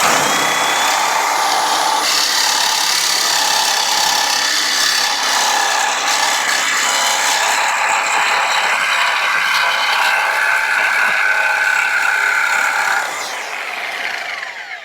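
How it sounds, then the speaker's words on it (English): A corded Sawzall reciprocating saw with a long-stroke blade cuts through a stuck steel suspension bolt on a Ram lower control arm, a loud, steady rasping drone that holds for most of the stretch and then eases near the end. "I've chalked up the blade in my corded Sawzall, and I noticed this one's got a longer stroke too"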